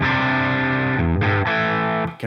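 Distorted electric guitar through a Friedman Pink Taco amp model in AmpliTube, captured with a Royer ribbon mic: sustained chords that change twice, thick and saturated, with a fresh strum at the very end.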